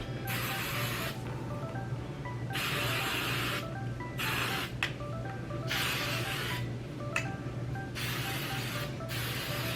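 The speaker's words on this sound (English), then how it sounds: "spray it with some hairspray." Hairspray sprays from an aerosol can in a series of long hissing bursts of a few seconds each, separated by short pauses, close and fairly loud over a steady low background hum.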